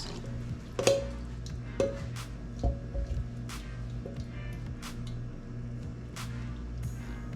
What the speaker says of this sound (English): You're just gonna mix until it's a nice batter